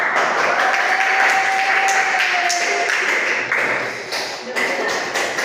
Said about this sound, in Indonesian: give applause for the first group